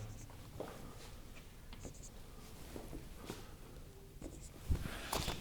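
Marker or chalk writing on a board during a computational physics lecture on the discrete Fourier transform gives faint, scattered scratching strokes and taps over a quiet room hum.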